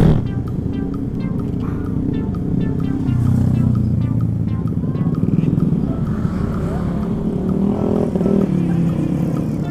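A KTM Duke motorcycle engine rumbles and revs close by amid busy road traffic noise, with someone talking over the steady drone.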